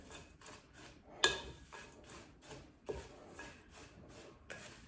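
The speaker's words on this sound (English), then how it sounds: "I'm just gonna stir this all together." Oats and nuts being stirred with maple syrup and oil for homemade granola, heard as soft scraping and rubbing strokes in a bowl with a few sharper clinks, fairly quiet and steady with no talking.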